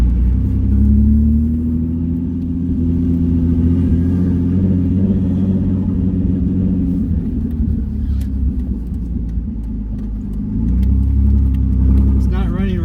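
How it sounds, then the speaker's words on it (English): A turbocharged V6 Mustang that is not running right, its engine a loud close rumble with a rising and falling whine, and people talking over it. "It's not running right, but the turbo noises are awesome."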